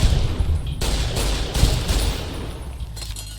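A gun in a heavily modded Fallout: New Vegas fires rapid bursts of loud, punchy shots in quick succession, with short breaks between the volleys.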